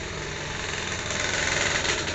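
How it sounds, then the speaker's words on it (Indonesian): A Kawasaki Ninja two-stroke motorcycle goes by with a steady, buzzing engine drone that swells slightly toward the end and holds at a fairly loud level throughout. "itu motor Ninja lewat ya"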